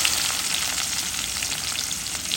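Garlic and onion hit hot oil and give off a loud, even sizzle that crackles continuously and close up, with no voices over it.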